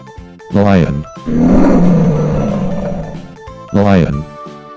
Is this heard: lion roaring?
yes